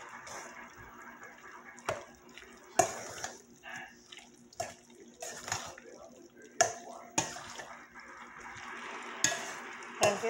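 Egg noodle casserole ingredients are stirred in a bowl, giving soft wet sloshing with intermittent sharp clinks of a utensil against the dish. The sounds are close and fairly quiet, and someone talks over them.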